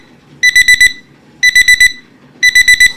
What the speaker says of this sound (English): I like using this magnetic large print timer because my oven timer is low